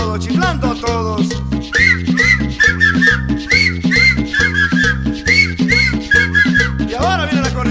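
Whistling along with tropical dance music, bright repeated whistle phrases riding over a loud rhythmic band with pulsing bass and percussion, up close and steady throughout.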